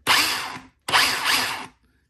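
A Ryobi drill in drilling mode runs in two loud, steady bursts close by, each spinning up sharply and cutting off, with a brief pause between them.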